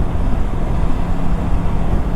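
Aprilia RS 457 motorcycle engine running while riding through heavy traffic, a steady dense low rumble with wind and road noise and no clear gear changes.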